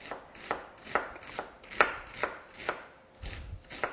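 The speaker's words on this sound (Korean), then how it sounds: "한 3mm에서 4mm 간격으로 썰어주세요." A knife chops steadily through onion on a cutting board while preparing hamburger steak, about nine crisp, evenly spaced thunks at a moderate pace, close and clear with no talking.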